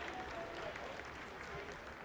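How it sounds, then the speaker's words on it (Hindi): Mission control staff applaud during the Chandrayaan-3 lunar landing descent. Sustained, dense clapping fills the room, blending with crowd murmur and voices, and stays at a steady, moderate level throughout. "Lot of applause indicates that till now the performance has been nominal."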